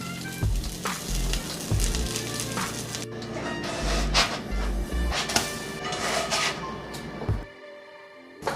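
Butter sizzling in a pan while making fluffy pancakes, a steady close frying hiss with scattered crackles and some clattering utensil knocks, continuing for several seconds before cutting off near the end.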